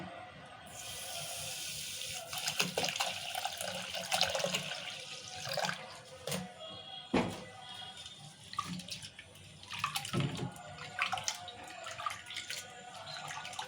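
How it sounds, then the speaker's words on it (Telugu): Coarse wheat rava is washed with poured water for upma, splashing and trickling in a kitchen vessel with irregular swishes, pours and small clanks, close and moderately loud. "ఈ రవ్వల వాటర్ పోసి ఒకసారి కడుక్కోవాలి"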